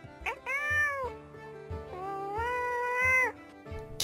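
A house cat meows in two long, drawn-out tonal calls with a few shorter chirps around them, close and clear with nothing else sounding.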